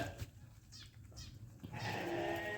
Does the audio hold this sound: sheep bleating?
yes